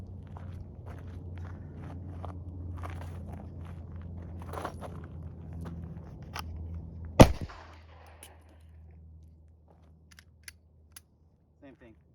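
Springfield Hellcat pistol fired on a range: one sharp, loud gunshot crack stands out amid shuffling and handling noise, followed by a few faint clicks and quiet.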